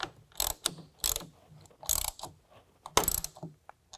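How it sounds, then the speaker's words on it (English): Ratchet clicks in short bursts as a rack clamp is tightened down on a 2022 Ford Maverick with a tonneau cover, several quick ratcheting strokes separated by brief pauses, close and fairly quiet. "go ahead and tighten that down using a half inch wrench or"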